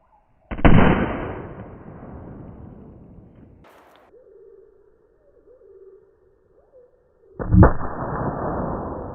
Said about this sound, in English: The explosion has been quite gripping, just like in the movies.